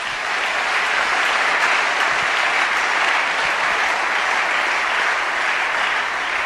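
A church congregation applauding in acclaim of the Lord, a dense, sustained burst of clapping from a large crowd, steady and loud throughout.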